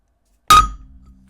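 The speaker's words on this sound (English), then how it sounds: "Let's go ahead and try the edge of the hammer." The edge of a hammer strikes a tempered glass screen protector on an Apple Watch Ultra. It makes one sharp, loud, close clink with a bright ringing tone that fades quickly.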